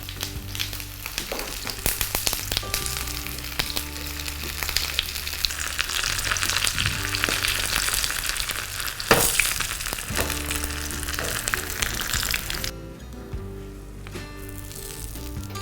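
Sesame masala bread toast sizzles steadily in a hot pan, a close, loud frying hiss that runs the whole way with stirring and scraping noises and a softer stretch near the end.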